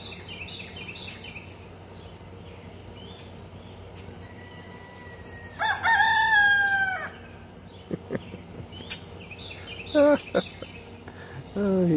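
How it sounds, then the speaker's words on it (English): A tailless rooster in a yard crows once loudly and close over a quiet outdoor background, followed by a few shorter calls and clucks; someone speaks softly near the start. "There's that rooster."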